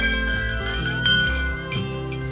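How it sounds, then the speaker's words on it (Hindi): Temple bells at an Achaleshwar Mahadev shrine in the Uttarakhand hills ring with sustained metallic tones, overlapping strikes blending into a steady, fairly loud shimmering drone. "ये हैं फर्स्ट मंदिर की घंटियाँ जिनको बजाने का बहुत ही मन करता है"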